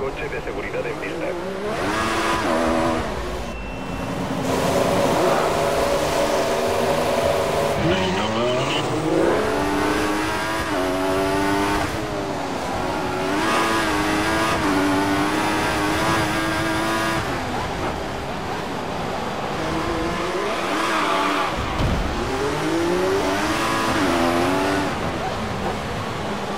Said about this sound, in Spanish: Ha salido el coche de seguridad en pista.